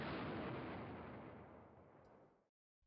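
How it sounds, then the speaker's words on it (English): Artillery bombarding enemy tanks in the Command Ops 2 war game set in Poland 1939, a single loud, rumbling barrage that rolls on and fades out over about two and a half seconds, followed by silence. "gonna bombard the enemy tanks a little bit"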